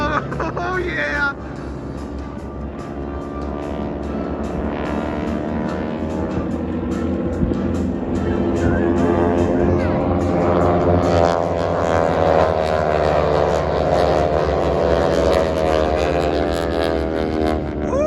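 Propeller airplanes of the Aeroshell Aerobatic Team fly past at an airshow, a loud engine roar that swells and sweeps in pitch as the aircraft pass overhead.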